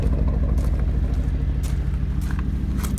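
A V8 car engine idles with a deep, steady low rumble and burble, close and continuous, with faint ticking sounds over it.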